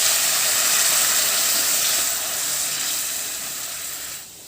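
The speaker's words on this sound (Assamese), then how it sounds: "এতিয়া ইয়াত গৰম কৰি থোৱা পানীখিনি দি দিব লাগিব।" Hot water poured onto fried masoor dal mix in a hot pan, a loud, steady broadband hiss of steam and sizzling that fades slightly toward the end.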